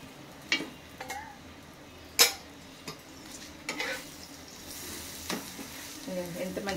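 Palak paneer paratha frying in butter on a pan, a soft continuous sizzle punctuated by sharp scrapes and clinks of a spatula against the pan.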